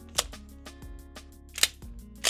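A few sharp shots from a Springfield Prodigy pistol fired at a shooting range, three or so loud reports spaced irregularly over a steady background hum.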